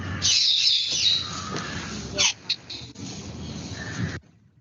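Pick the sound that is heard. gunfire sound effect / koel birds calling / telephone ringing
koel birds calling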